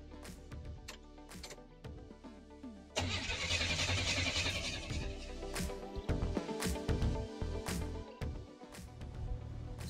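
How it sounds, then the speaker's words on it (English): A Buick Turbo Regal with a hard-start fault when cold cranks with a run of clicking pulses, then catches with a sudden loud surge and settles into a rough idle, close by with no talk. "Let me try to start up the car."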